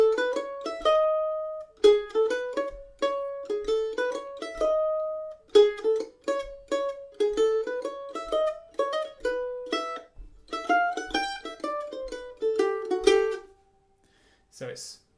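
A mandolin plays a bright melodic phrase three times in a row, with a short varied fourth ending and a brief pause.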